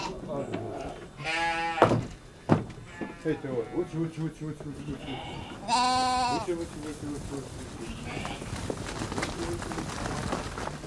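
Sheep bleat on a certified organic sheep farm, with two loud, wavering calls close by and other faint flock sounds around them, while someone talks over the scene.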